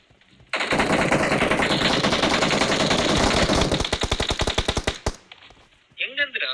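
Loud automatic gunfire rattles in the video game PUBG in one long burst. It thins into separate spaced shots before stopping, and a voice follows briefly at the end.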